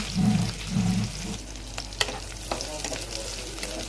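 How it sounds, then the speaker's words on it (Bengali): Onions and garlic fry in oil in a pan just used for frying poa fish. A steady close sizzle runs throughout, with a low hum early on and a few light spatula taps, no talking. "পেঁয়াজগুলি ভেজে নেব"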